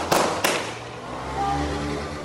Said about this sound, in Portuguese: fazendo disparos para o alto.